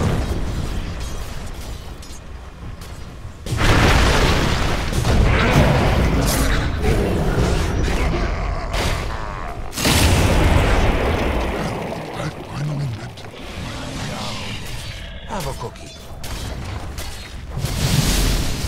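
A tower under attack and collapsing in a Dota match: dense booming crashes and rumbling impacts layered over busy battle noise, loud and continuous with a few stronger bursts.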